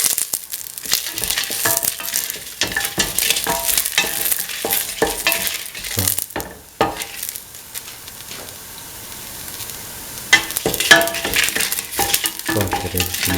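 Red chillies fry with salt in a pan for a stew of ivy gourd, green peas and coconut milk, crackling loudly and steadily with repeated sharp scraping stirs and a quieter stretch in the middle.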